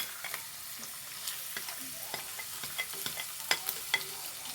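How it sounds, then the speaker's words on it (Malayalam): Ginger frying in hot oil for a pickle, a steady bright sizzle with scattered scraping and tapping as a spoon stirs the pan, close and continuous. "ഈ എണ്ണയിലേക്ക് ഞാൻ ആദ്യം ഇഞ്ചിയാണ് ഇട്ട് ഇട്ട് കൊടുക്കുന്നു"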